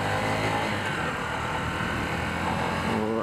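A 2020 Honda Livo BS6 motorcycle engine pulls steadily toward top speed, a continuous broadband drone with wind rush and no talking.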